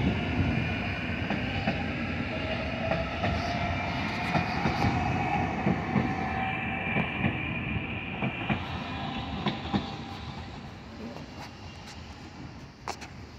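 Train cars roll past on the rails at EBJ Union Station with steady rumbling and rhythmic clickety-clack wheel joints, plus occasional sharp squeals and clanks, close by and continuous.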